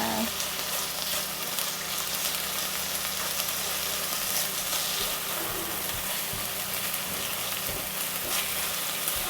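Spicy pork bulgogi with green onion being stirred in a hot pan, a loud, steady sizzle and crackle of frying throughout, with soft scraping of the stirring underneath.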